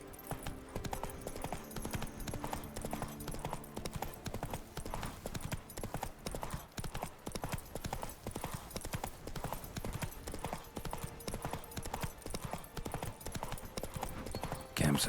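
Roach, Geralt's horse in The Witcher 3: Wild Hunt – Blood and Wine, trots with steady, close clip-clopping hooves throughout, joined by a brief whinny and a short spoken line.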